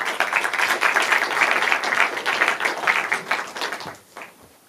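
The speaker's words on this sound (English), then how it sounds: "That's the easiest round of applause I've ever had." A cinema audience gathered for a talk on Borg versus McEnroe claps in a dense burst of applause that dies away over the last second.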